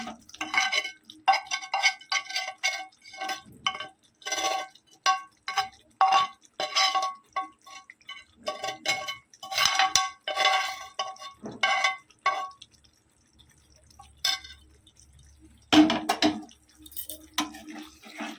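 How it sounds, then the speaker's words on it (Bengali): Pieces of chicken tikka go into a pan of simmering masala gravy, giving repeated clinks of utensils against the pan with wet stirring sounds, in irregular bursts and a few quiet gaps. "এর মধ্যে চিকেনের টিক্কাগুলো দিয়ে দিচ্ছি।"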